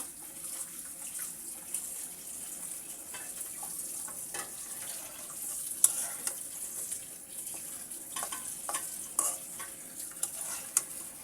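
Pieces of rohu fish are stirred in a pan, a low steady sizzle broken by scattered scraping clicks and utensil knocks against the pan.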